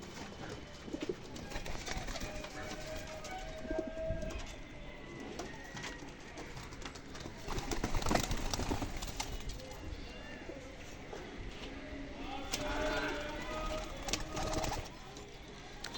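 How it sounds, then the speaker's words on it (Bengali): Released pigeons, all of one colour, coo repeatedly in soft, low calls amid fluttering and outdoor bustle, while someone talks over them throughout. "এই যে বন্ধুরা পায়রাগুলো ছেড়ে দেখাচ্ছি"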